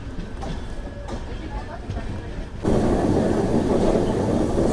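An LHB-coached Sabari Express rolls through a curve after leaving Secunderabad, a steady rumble of wheels on rails that abruptly swells louder and brighter partway through, heard from inside the train.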